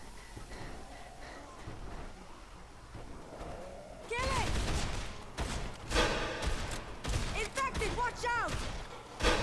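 Gunfire in the Dead Island Riptide video game, a burst of sharp shots and thuds in the second half amid game noise, with excited voices talking over the action.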